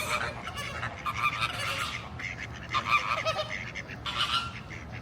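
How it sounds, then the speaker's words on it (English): Waterfowl at the San Diego Zoo, mallard ducks among them, call out in a run of loud honking, quacking sounds that come in bursts over steady outdoor background noise, some near and some farther off. "Got a few freeloaders over here. Mallard ducks."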